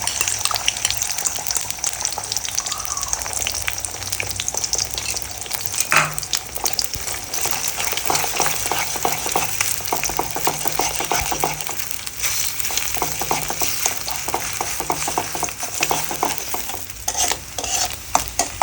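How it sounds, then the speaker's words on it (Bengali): Egg frying in a pan with onion and garlic for baked pasta, stirred steadily. A continuous close sizzle runs throughout, with scraping stir strokes repeating over it and no talking. "ভাজা ভাজা করে নিতে হবে ডিমটা।"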